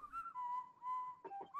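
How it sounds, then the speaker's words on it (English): Whistling from the video game Baldi's Basics: a thin, clear tune of sustained and gliding notes, fairly quiet, with a short rough burst near the end. There is no talking. "Why is somebody whistling?"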